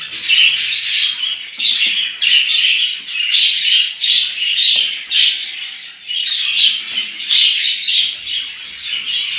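Pet budgerigars kept at home, with three chicks in the nest, chirp and squawk continuously in bright, busy chatter, close and fairly loud with no talking.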